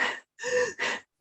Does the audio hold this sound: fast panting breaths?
yes